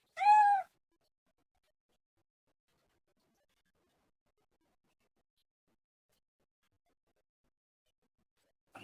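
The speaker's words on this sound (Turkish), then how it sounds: "Tatlı kedim benim gel." A pet cat gives one short, clear meow near the start, followed by long silence and a faint trace of a sound at the very end.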